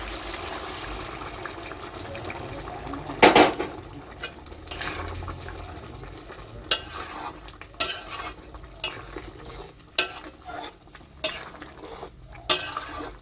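Chicken pieces frying in released oil in a home pan as a little hot water is poured in, giving a sudden sizzling burst followed by steady frying hiss with scattered spoon-and-pan clinks, no voices.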